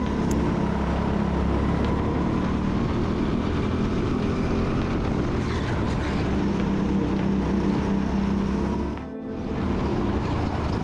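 Indoor go-kart engine drones continuously and loudly at an indoor karting track during a race, a steady buzzing roar with only a brief dip near the end, without any talking.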